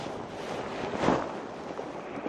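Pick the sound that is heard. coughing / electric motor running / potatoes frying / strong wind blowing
strong wind blowing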